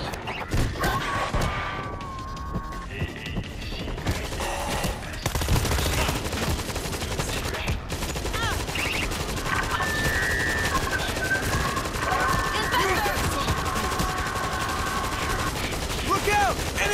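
Auto turrets in the video game World War Z fire long sustained automatic bursts amid mechanical clanks and a chaotic zombie battle, loud and close, with shouting voices mixed in.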